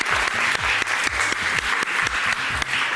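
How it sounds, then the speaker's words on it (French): A studio audience at a TV talent show applauds a returning contestant with steady, dense clapping throughout, punctuated by a few stronger bursts, loud and close with no speech. "Et applaudissements pour Lorenzo!"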